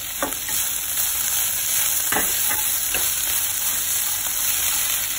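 Vegetables sautéing in a pan, a loud steady sizzle and fry with scattered scraping stirs of a utensil against the pan, close by and without speech.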